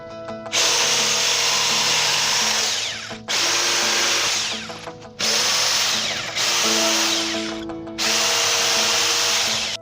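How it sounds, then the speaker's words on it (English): A jigsaw trims wood for a flight-sim cockpit build in loud, close bursts: four or five sustained buzzing cuts separated by brief pauses, with no talking. "I'll just go over that with the jigsaw, and I'll just keep trimming it"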